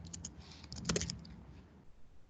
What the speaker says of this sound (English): I'm typing the first question